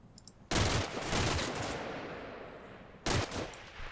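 Two loud bursts of rapid automatic gunfire erupt in the Combat Mission Black Sea war game. The first rattles on for about a second before fading into a long echoing tail, and a shorter second burst follows.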